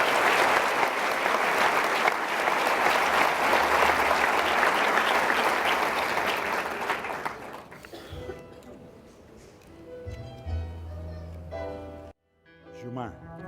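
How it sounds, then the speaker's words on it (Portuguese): A congregation applauds inside a church during a sermon, with loud, sustained clapping for about eight seconds before it fades. Someone then speaks and there are a few low instrumental or speaker tones. "Vamos aplaudir o Senhor."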